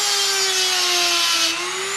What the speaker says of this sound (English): I also use the diamond wheel on my Dremel